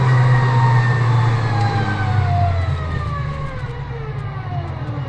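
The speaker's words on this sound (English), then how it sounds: "Listen to this supercharger open up." Supercharged VW Polo G40 engine with supercharger whine, loud and close, rising whining tones sweeping as the engine revs, heavy low rumble underneath, no talk.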